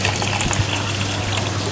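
Water poured from above onto a plastic-bottle hydroponic wick system makes a steady, close, loud gushing splash with no pauses and no voices.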